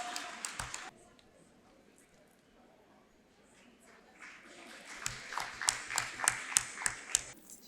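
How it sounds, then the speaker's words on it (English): An audience at the 37th Foundation Day ceremony of IIS Jubail school claps. After quiet talk-like sounds, the applause swells into many distinct, fairly close hand claps that continue to the end. "A big round of applause."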